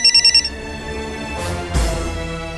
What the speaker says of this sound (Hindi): संजय सर का फोन है